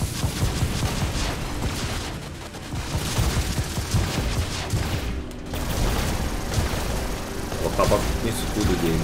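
Dense, continuous gunfire and explosions from War Robots, a robot combat video game, with heavy bursts layered throughout and a player talking over the action.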